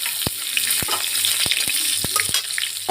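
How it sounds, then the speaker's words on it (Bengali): Black cumin, green chili and bay leaf sizzle hard in hot oil left from frying fish, a bright, constant hiss broken by several sharp pops and crackles. "এবার কি কি ফোড়নে দিচ্ছি দেখো, কালো জিরে, কাঁচা লঙ্কা আর তেজপাতা।"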